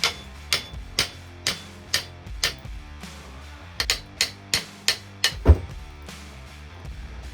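Metal strikes ring out as a stuck suspension part is hammered off a Ford Focus ST170, a steady series of sharp, close blows at roughly half-second intervals, pausing briefly before another run with one heavier hit.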